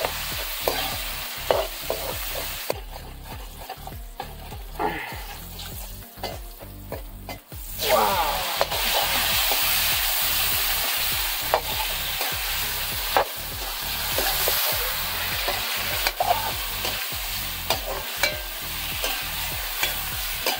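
Onions with ginger frying in a pan for pork biryani, a strong continuous sizzle broken by regular scraping and knocking of a stirring spoon, close and steady.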